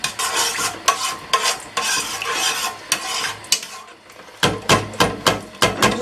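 Palm oil is stirred in a cooking pot for egusi soup, with repeated close scraping strokes of a utensil against the pot, briefly pausing before quicker strokes resume.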